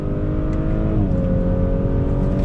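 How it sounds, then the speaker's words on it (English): A 2021 Audi S4 engine revs hard as the car powers out of a roundabout after a downshift, a steady loud interior drone whose pitch climbs smoothly under throttle. "Let's see how we power out of this roundabout. On throttle."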